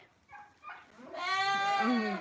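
A young lamb gives a couple of short bleats, then a longer, louder wavering bleat, close by with no talking.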